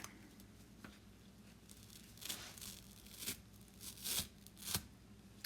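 A Chalk Couture transfer sheet is peeled up slowly, giving faint, close crinkling and short tearing rasps that come in several separate bursts, growing a little stronger toward the end.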